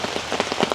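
Heavy typhoon rain pours down in a steady, dense patter of drops drumming on a surface, close and continuous for a brief moment, with no voices.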